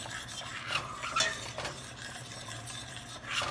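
Ketchup thickened with guar gum is stirred in a pan, giving a continuous wet scraping and swishing with irregular louder strokes, close up and without talk.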